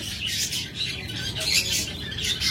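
Lovebirds at a bird sale give repeated chirps and squawks up close, busy bursts of calls over a dull background rumble.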